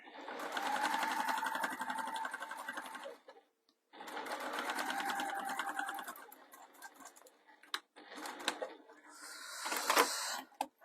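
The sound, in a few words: sewing machine top stitching a faux leather bag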